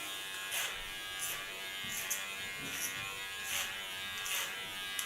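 Steady, close electric hair clipper buzz during a short haircut, with a constant hum and brief rhythmic swells as the blades pass through the hair.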